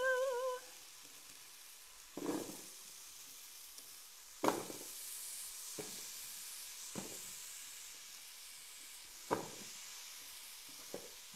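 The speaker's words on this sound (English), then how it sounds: "We're going to add our potatoes and our onion, and it's going to sizzle" Potatoes and onion hit a hot pan, sizzling in a steady hiss with several sharp crackling bursts spaced a couple of seconds apart as more pieces drop in. The sound is close and moderate in level, with no talking.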